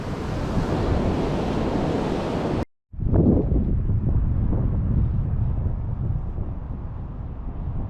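Continuous roar of surf on the shore at Abalone Cove and wind buffeting the microphone, cut by a brief silence, then waves and wind resume, loud and close.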